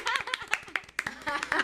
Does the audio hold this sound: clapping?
yes